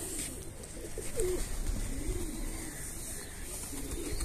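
Soft, low pigeon coos repeat at a distance against a steady background hiss, faint and unhurried.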